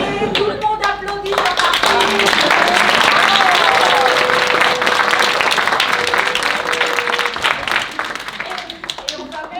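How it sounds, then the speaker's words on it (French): A crowd applauds together in a dense, loud burst of clapping that swells and then tapers, with voices and a few cheers mixed in. "Allez, tout le monde applaudit,"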